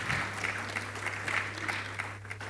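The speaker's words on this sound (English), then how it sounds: "Please, a round of applause for Mr. Allen" Applause from the audience at a panel session on performance management, a moderate, fairly distant patter of clapping that holds steadily for a couple of seconds over a low steady hum from the room.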